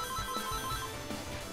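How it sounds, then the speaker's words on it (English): A telephone ringing in a short, repeated electronic ring pattern, fairly faint under a steady background hum. "Phone."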